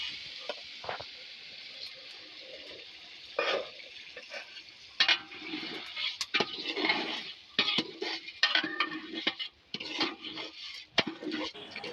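Onion, chili and spices frying in oil for a rainy-day khichuri, with steady sizzling under repeated scraping and stirring of a spoon against the pot, plus occasional clinks of utensils; close and fairly loud, no talking.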